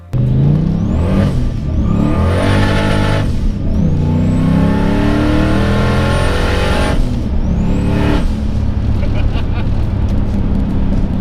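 A 1987 Ford Mustang GT V8 with a Bassani catback exhaust and LX tailpipes revs hard in repeated bursts, its deep throaty exhaust rising and falling loudly and close by, with a voice briefly heard over it.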